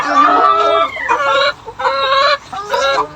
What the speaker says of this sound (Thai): แม่ไก่พันธุ์ไฮบริดนะครับ